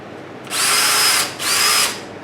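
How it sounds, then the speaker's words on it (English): A cordless screwdriver powered by a DeWalt 20V MAX lithium-ion battery whirs loudly and close in two short bursts, each about three-quarters of a second long with a brief gap between them. "I'm just going to throw the battery into a cordless screwdriver here"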